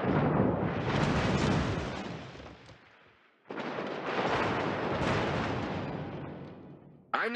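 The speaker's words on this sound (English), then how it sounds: "Concentrate fire on the enemy warship" Heavy warship gunfire in World of Warships, with a Swedish destroyer Skåne in a ranked battle: two long, roaring salvos with booming rumble, separated by a brief lull, ending in a sharp new blast.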